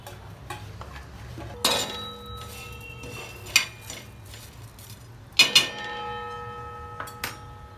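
Whole spices such as coriander seeds, cinnamon, cloves, peppercorns, star anise and stone flower are dry-roasted on a tawa, with a soft rustle broken by several sharp metallic clinks of a utensil against the pan.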